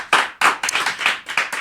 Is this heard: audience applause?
yes